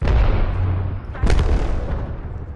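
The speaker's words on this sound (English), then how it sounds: "Throwing arc star. Throw an arc star." Arc star grenade exploding in a shooter video game: a sharp burst with a crackling electric sizzle, loud over ongoing gunfire and rumbling game noise, with no voices.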